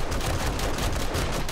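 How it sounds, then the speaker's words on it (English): Land mines go off in the survival game 7 Days to Die, a dense stretch of loud, overlapping explosive bursts and rumble with no pauses and no talking. "The mines went off."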